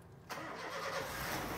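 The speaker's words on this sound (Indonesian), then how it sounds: "Starter aja biar dengerin suara mesinnya" A used car's engine cranks and catches abruptly, then settles into a steady, close, even idle with no voices over it.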